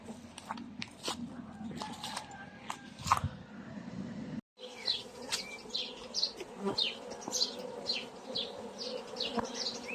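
Honeybees buzz close by at a hive where young queens have hatched, a dense insect hum with brief frame clicks and handling noises, interrupted by a short gap midway.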